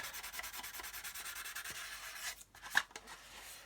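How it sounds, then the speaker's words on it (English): Rhythmic back-and-forth sanding strokes rub across a plastic seam on a 1/72 scale Airfix Vulcan model kit, steady and close for over two seconds, then a pause and a couple of sharper scrapes. "We just want to sand it so there's no step"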